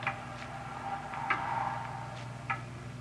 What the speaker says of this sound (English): It's a loud clock, ain't it?